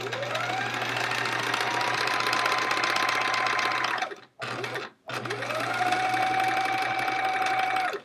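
A sewing machine stitches rows of a chevron quilt, running in a steady continuous whir with a short stop-start pause midway before carrying on, close and loud with no talking.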